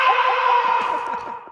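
Podcast hosts let out a loud, sustained closing scream together, a strained shout that holds steady for over a second before trailing off.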